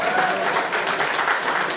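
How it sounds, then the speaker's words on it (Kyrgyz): Audience applause at a Kyrgyz toastmasters' event rises in a dense, steady wash of clapping that carries through the short stretch, fairly loud, with some speech mixed in. "Ушул Нурлан Мотуевге кол чаап коюңуздар."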